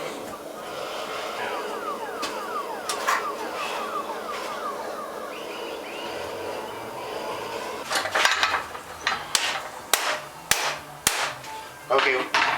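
A hammer taps parts through onto a shaft, a series of sharp metallic strikes, sparse at first then in quicker bursts toward the end, close and loud over a background hum with faint voices.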